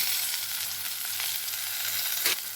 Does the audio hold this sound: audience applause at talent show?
no